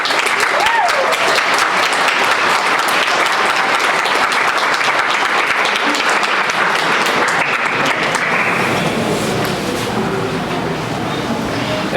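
An audience at a robotics demo night claps loudly and steadily for several seconds, dense and continuous, gradually thinning toward the end.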